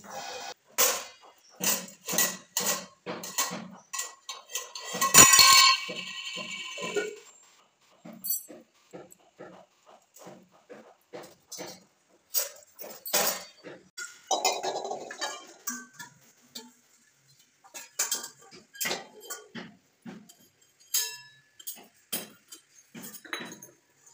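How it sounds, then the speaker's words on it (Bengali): A small child throws and bangs metal pots, pans and utensils around indoors: a string of sharp clanks and clatters in irregular bursts, close and loud, with brief pauses between them. "দুপুরবেলা না ঘুমিয়ে সব বাসন এদিক ওদিক ফেলে ছুঁড়ে খেলাধুলা করছে"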